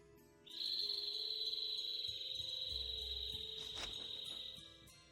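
A sustained high whistling bird call in a desert area of Tales of Vesperia, one long steady tone held for several seconds over faint background music, with a brief low rumble partway through.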